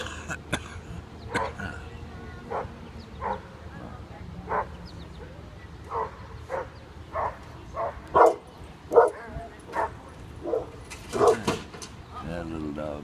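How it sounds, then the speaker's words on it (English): A small dog barks repeatedly in short, evenly spaced yaps, fairly close and at moderate volume, with people talking and a cough or throat clearing heard nearby. "That little dog."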